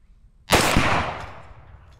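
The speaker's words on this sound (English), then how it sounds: "I love that explosion" A Firebird 65 firework target bursts in one sudden loud boom, its rumbling tail decaying over a second or more, with no voices.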